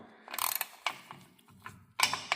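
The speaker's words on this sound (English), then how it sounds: "now with our new crush washer, we're just gonna snug this down" A ratchet wrench snugs down the rear differential plug bolt with a new crush washer on a Toyota Tacoma, a few short bursts of close, quiet clicking separated by pauses.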